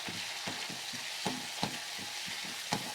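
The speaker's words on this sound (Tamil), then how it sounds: "தேங்காய் சாதத்துக்கு தேங்காய் வறுக்கிறா" Grated coconut frying in a pan for coconut rice, with curry leaves and onion, gives a steady close sizzle broken by repeated scraping stir strokes, with no talk over it.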